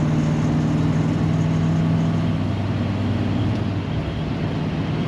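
A 1956 Ford Thunderbird engine at full throttle, a loud steady droning rumble from inside the car whose pitch holds then slowly shifts as it pulls, with no talk.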